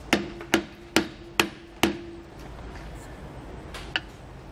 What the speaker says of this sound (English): You can use a rubber mallet to tap that off.